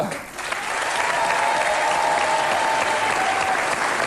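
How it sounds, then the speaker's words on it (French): Steady studio audience applause on a French television variety show, a dense, even wash of clapping that holds for several seconds after a brief swell near the start. "Je demande d'applaudir"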